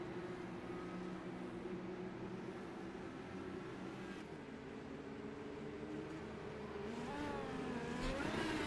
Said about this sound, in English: I hear a lot of cars trying to burn off some extra fuel.